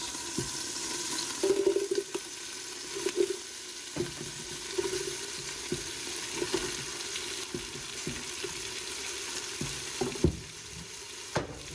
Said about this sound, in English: And we're throwing in the onions.